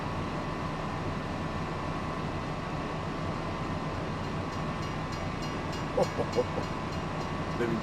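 An old train in the Farming Simulator 25 video game rumbles past as a continuous rolling drone with a faint rhythmic clatter near the end, fairly steady and moderately loud.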